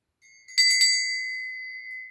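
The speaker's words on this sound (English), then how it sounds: "a bell. And it's quite interesting, this is actually, because if you look, it has an owl on top." A metal bell topped with a cast owl figure is struck twice in quick succession, giving a clear, bright ring that sustains and slowly decays over about two seconds, alone and close up.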